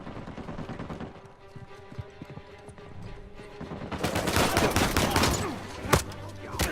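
Gunfire in the video game Uncharted 4 crackles in sparse shots at first, then swells into dense, loud rapid bursts in the second half, with one sharp, prominent shot near the end.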